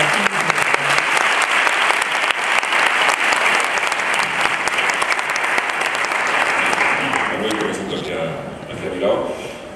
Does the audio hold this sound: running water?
no